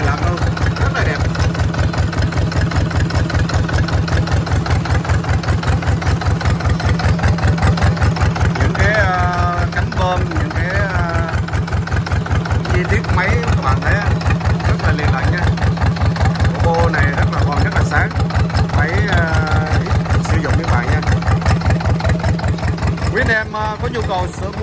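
A Yanmar 2LM two-cylinder diesel marine engine rated 24 hp at 3000 rpm runs close by at a steady idle, with an even, rapid knocking beat throughout and faint voices now and then over it.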